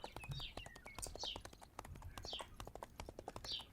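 Hooves of a horse-deer mount clop in a steady, brisk rhythm in the game Chimeraland, fairly close, with faint chirpy game sounds over the top.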